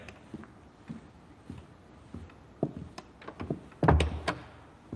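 A door opens with a heavy wooden thunk, scattered creaks and small clatters leading up to it, in a palace setting with no one speaking.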